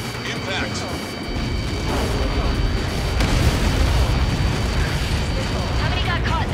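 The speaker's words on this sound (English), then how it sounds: "How many got caught in that explosion?" A massive explosion impact in the Ace Combat 7 combat flight game, a long dense roaring rumble that swells and sustains for several seconds, with radio voices talking over it.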